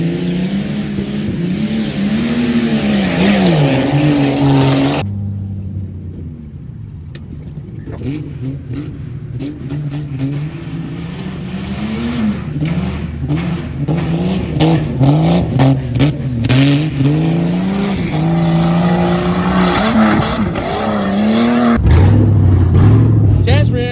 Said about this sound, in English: Backfires are nice though.